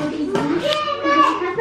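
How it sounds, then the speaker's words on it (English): Children arriving noisily in a home kitchen, with a brief bang and a mix of excited young voices chattering close by over low background clatter. "It's got a bit noisier in here, the kids have all turned up"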